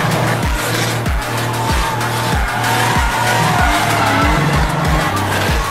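Volkswagen Golf spinning donuts, its tires squealing and skidding in a loud, continuous screech with repeated engine surges in a steady rhythm, close up and with no talking.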